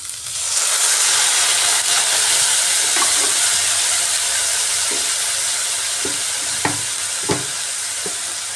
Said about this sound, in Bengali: এবার দিয়ে দিচ্ছি সামান্য জল।